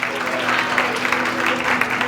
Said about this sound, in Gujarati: એક વખત વતન માટે તાળી પાડો ભાઈ ભાઈ